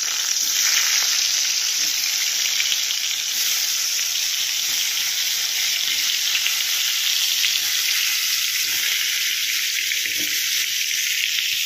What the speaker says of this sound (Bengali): তেল গরম হয়ে গেছে, এবার আমি পটলগুলো